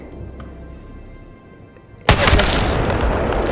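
A single loud, heavy Kraber sniper rifle shot from Apex Legends booms in suddenly after quiet game ambience, its broad blast and rumbling tail filling the rest of the moment.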